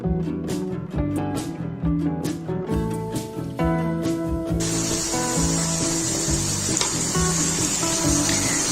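Garlic, onion, tomato and bottle gourd fry in a pan, a steady close sizzle that swells into a louder, denser hiss midway, with tonal background music running underneath throughout.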